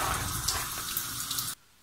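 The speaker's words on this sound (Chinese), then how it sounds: "对着水龙头清洗干净" Soaked seeds on a white mesh tray are rinsed under a running kitchen tap, a steady, moderately loud splash of water that stops abruptly near the end.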